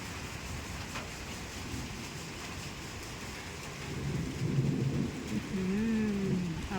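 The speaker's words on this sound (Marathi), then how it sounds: "पावसाचा चांगलाच जोर वाढला आहे" Heavy monsoon rain pours down steadily on a dark day in a village yard, with a low rumble of thunder building and swelling in the latter half, no voices.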